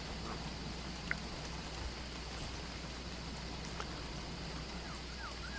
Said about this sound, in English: That's because the rain is getting us wet here.